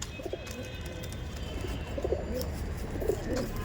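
Rampuri pigeons in a loft give soft, throaty cooing calls in a few short bursts over a steady background hum.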